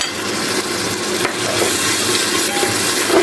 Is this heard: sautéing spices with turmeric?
yes